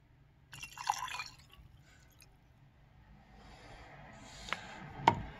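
High-proof alcohol poured onto pine tree gum for a tincture gives a faint liquid trickle and a few soft drips and taps, quiet and close, with no speech.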